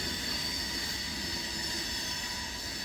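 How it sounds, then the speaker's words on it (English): Rolling rumble and rail noise of a train passing near the Santa Fe Junction, a steady, loud wash with high wheel squeal, no talk. "I hear another train"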